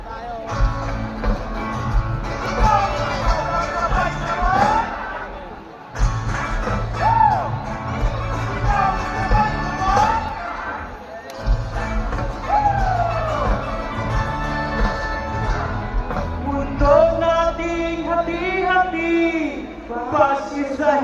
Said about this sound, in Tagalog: isigaw ng sabay-sabay